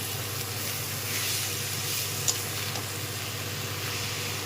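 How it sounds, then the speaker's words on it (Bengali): Kakrol (teasel gourd) slices frying in oil in a home kitchen during Bengali puja cooking give a faint, steady sizzle with soft hiss and one brief tick, and no voices. "কাঁকরোল ভাজা চলছে"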